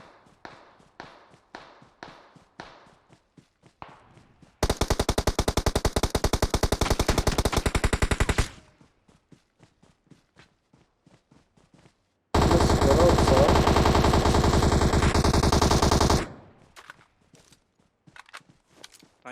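Two long bursts of rapid automatic gunfire in a PUBG Mobile match on the Sanhok map, each lasting several seconds. Footsteps and short clicks sound between them. No one speaks.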